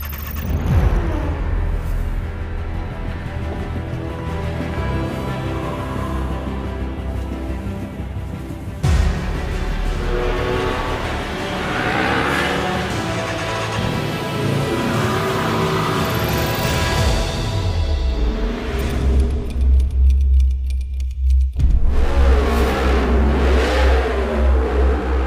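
A Griiip G1 race car engine in a virtual practice session, loud and close, revving hard through repeated upshifts and downshifts with a constant droning roar.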